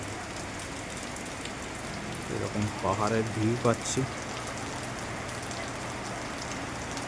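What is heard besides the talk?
heavy rain at a hill guest house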